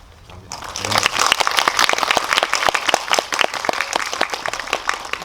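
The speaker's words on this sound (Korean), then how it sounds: "이 두 분에게 되게 박수를 쳐드리고 싶은 생각이 좀 들었습니다" A cinema audience applauds loudly at a film Q&A event, dense steady clapping that swells quickly and carries on throughout.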